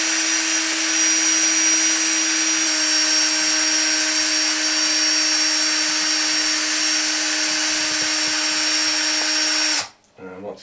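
A steady electric drill whine while twisting rope strands tight runs continuously for about ten seconds, then cuts off abruptly near the end, leaving a few quieter scuffs.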